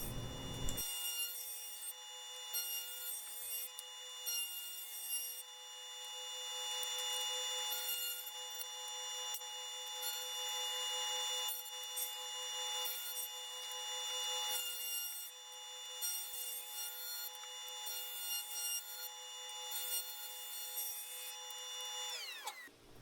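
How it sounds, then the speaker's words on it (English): Maple boards for a cutting board are cut on a power saw, a steady high whining tone with rhythmic rasping bursts through the wood, ending with the blade spinning down. "Here I'm cutting the final edge of these two maple boards here."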